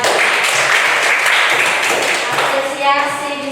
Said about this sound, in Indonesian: Kita tepuk tangan sekali lagi.